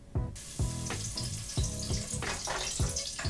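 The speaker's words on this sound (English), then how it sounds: "you definitely want to use the strainer for the garlic part because it just fries so quickly" Garlic frying fast in hot oil in a strainer for salsa macha, heard as a bright continuous sizzle with repeated sharp bursts, about seven close loud surges in a few seconds.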